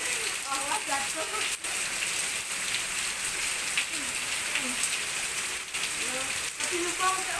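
Steady rain falls at a house, a constant hiss with occasional drips and clatters, while voices speak faintly underneath.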